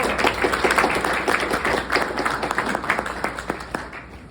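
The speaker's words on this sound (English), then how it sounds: "please let's give once again one big applause to Manufacturing Cluster of Ontario" An audience gives a round of applause, many hands clapping in a loud, close, steady patter that thins out toward the end.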